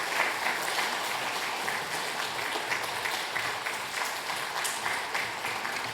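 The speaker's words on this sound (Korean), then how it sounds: "우리 박수로 맞이하도록 하겠습니다." A church congregation gives a dense, steady round of applause to welcome the pastor to the front during a Sunday worship service, with the clapping sustained and even from start to finish.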